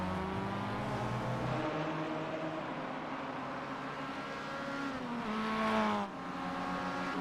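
Race cars, a Jetta and an MX-5, run down the straight in iRacing at VIR, engines droning and rising in pitch as they accelerate, with one car's whine swelling louder near the end before easing off.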